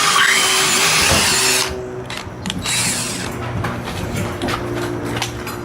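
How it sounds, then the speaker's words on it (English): A power drill bores through double-plated heavy metal on a stop arm install, a loud close grinding whir that drops in pitch and strains after the first seconds, with ratcheting clicks as the bit works through. "you'll have to drill it first and then"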